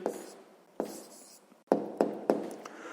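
A pen writes an answer on paper for a sixth-grade maths exercise, giving quiet close scratching strokes punctuated by several sharp taps.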